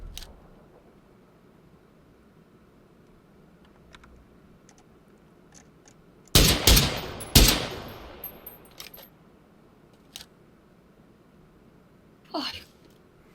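Gunfire in the video game PUBG Battlegrounds, with two sharp, loud shots close together in the middle of an otherwise quiet stretch, followed by a few faint clicks and a brief distant burst.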